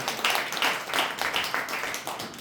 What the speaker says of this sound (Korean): 학술대에 김병환 회장께서 개사를 해주셔서 다시 한번 박수 부탁드리겠습니다.